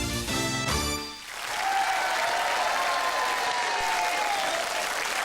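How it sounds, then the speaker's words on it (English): A studio audience at a 1990 Yorkshire TV children's show cheers and applauds: a brief musical sting gives way to a dense, loud, sustained roar of clapping and whooping that runs steadily to the end. "they're cheering and they haven't even seen the show yet"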